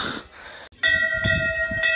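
A large temple bell rings with a bright, sustained metallic tone at Ghorakhal temple near Nainital, where many bells hang, struck once after a short pause and then left ringing loudly up close.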